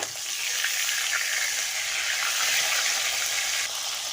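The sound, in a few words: fish frying in hot oil in a wok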